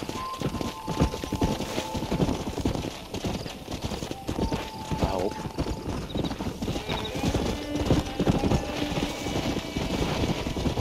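Horse hooves clip-clop steadily in a Red Dead Redemption scene as the horse follows along, with occasional whinnies and a dense wash of background game sound.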